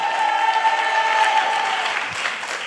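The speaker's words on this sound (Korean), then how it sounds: "승리의 함성을 올려드릴지어다" A church congregation at a Friday worship service lets out a shout of victory, a loud, sustained roar of many voices with a held tone running under it, steady throughout.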